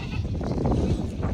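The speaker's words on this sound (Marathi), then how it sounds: "शेळ्या पाहू शकता तुम्ही आजूबाजूला टॉपमध्ये शेळ्या आहेत मित्रांनो." Goats bleat at a busy rural goat market selling local and Hondi breeds, several overlapping bleats mixed into a low crowd murmur.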